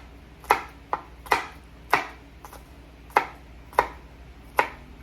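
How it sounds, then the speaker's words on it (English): Knife chopping fresh oregano and parsley on a cutting board for chimichurri sauce: seven sharp, separate chops in an uneven rhythm, close and clear with nothing else heard. "We're gonna cut some oregano"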